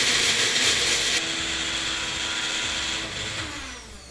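A kitchen mixer grinder blends a tomato chutney mixture to a fine paste, giving a steady, loud whirring grind that runs unbroken for about four seconds.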